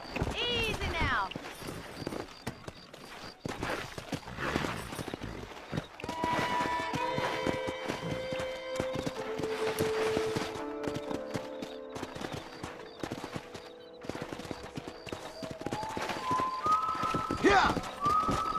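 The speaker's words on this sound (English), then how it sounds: "That ranch hand said there's a pack of wild horses nearby." Wild horses gallop in the Red Dead Redemption video game, rapid hoofbeats drumming close and loud with occasional whinnies, while people talk over the action and music plays.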